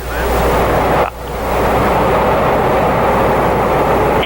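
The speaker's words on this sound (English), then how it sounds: "The engine's igniting." Rocket engines ignite at the launch of a crewed year-in-space mission, a loud, steady broadband roar that dips briefly near the start and then holds at full strength without letup.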